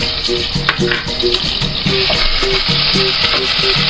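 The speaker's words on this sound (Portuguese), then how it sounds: "O alho bem fritinho." Garlic frying in hot oil for a pirão broth: a loud, steady sizzle throughout, with rhythmic stirring scrapes and taps of a utensil against the pan, close up and with no talking.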